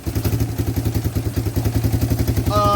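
A 250 QuadRunner four-wheeler engine runs loud and close after its idle is turned up, with a rapid, pulsing mechanical chug and clatter that surges slightly, plus a brief higher tone near the end.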